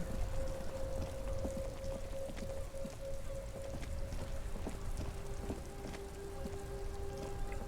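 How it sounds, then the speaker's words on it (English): Steady rain falls over the city of Revachol in Disco Elysium, a soft continuous patter with scattered drips and a faint sustained tone beneath, with no talk. "All around you, rain falls on the great city of Revachol."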